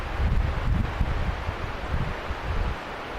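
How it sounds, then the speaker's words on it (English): Steady wind blows outdoors beside a lake in the Wind River mountains, with low buffeting rumble and a broad rushing hiss through trees, constant and fairly loud. "Still windy."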